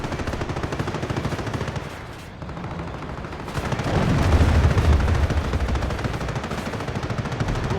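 Battle in the Company of Heroes video game with tanks such as a Panzer II and a T-34-85. Dense, continuous gunfire and rumbling blasts form a loud mix with no talking, swelling heavier in the middle.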